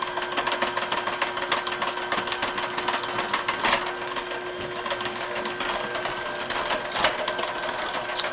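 An electric mixer runs on its low speed through apple bread batter, a continuous close whirring drone with faint rattling from the bowl.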